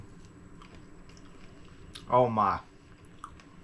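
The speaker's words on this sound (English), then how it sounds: "Let's get us a piece of this and sample it." Close, soft chewing of a bourbon-glazed bacon dish runs quietly throughout, briefly interrupted by a short spoken exclamation.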